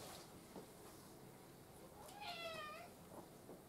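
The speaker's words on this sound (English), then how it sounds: "I'm trying to use the tactic of brushing the cat to make him shut up" A cat meows while being brushed, a single drawn-out wavering meow in the middle over a faint, quiet background.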